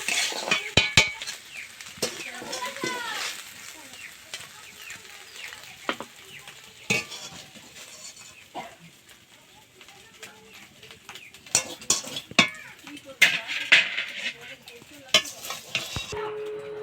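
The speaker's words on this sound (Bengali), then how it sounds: "ডিমটাকে ঝুরা ঝুরা করে ভেজে নেব।" Egg is stir-fried and scrambled in a wok for chicken chowmein, with a continuous sizzle, repeated clattering scrapes of a spatula against the pan, and birds chirping faintly in the background.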